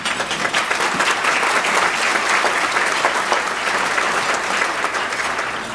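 Audience applause fills a hall during a speech by Arizona Governor Doug Ducey, a loud, dense wash of many hands clapping that holds steady for several seconds before beginning to taper.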